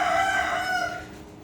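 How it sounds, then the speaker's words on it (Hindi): Roosters crowing at close range among neighbouring backyard chickens, one drawn-out harmonic crow that fades out after about a second, with no talk. "ये मुर्गे सब बोल रहे हैं"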